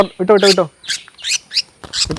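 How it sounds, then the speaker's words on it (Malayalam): Caged backyard birds give a series of loud, harsh squawks and screechy calls in quick bursts, close by, with short pauses between them. "ഇപ്പൊ നമ്മുടെ കൂട്ടിൽ അവിടെ ഇവിടെ എല്ലാം കിളികൾ ഇരിപ്പുണ്ട് കേട്ടോ"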